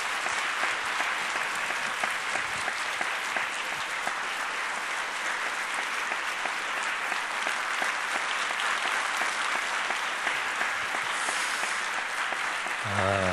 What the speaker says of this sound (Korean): 목사님 교회와 또 목사님 네 분 하시는 일 우리 축복하면서 박수 한번 해주시기를